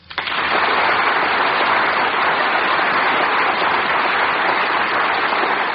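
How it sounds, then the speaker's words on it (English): A radio studio audience applauds for Mr. Mankiewicz, a dense, even roar of clapping that swells in quickly and holds loud and steady to the end. "I should like to ask that all of you join Jane and myself in applauding him."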